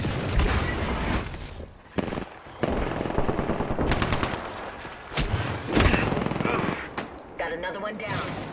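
Rapid bursts of video game gunfire crackle through a shootout, dense automatic volleys with brief gaps and sharp single shots, loud and close, with a voice talking over parts of it.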